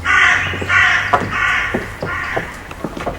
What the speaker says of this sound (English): The raven himself is hoarse that croaks the fatal entrance of Duncan under my battlements.